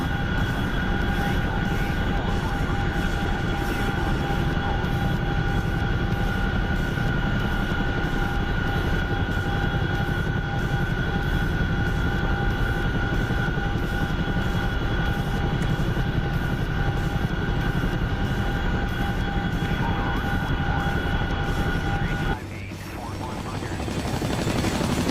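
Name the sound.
aircraft engine on approach to airfield, video game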